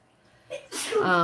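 One sharp, close sneeze bursts out after a quiet moment, followed by a brief voiced trailing sound.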